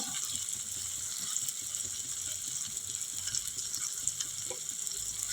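Ginger-garlic paste fries with onion and tomato in a pan, giving a steady, even hiss at moderate loudness with faint low clinks underneath, heard up close.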